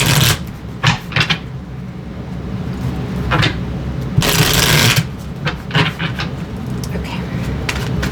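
Oracle cards are shuffled by hand for a tarot reading, producing bursts of papery riffling and soft slaps, one longer flurry midway, with a person talking quietly in between.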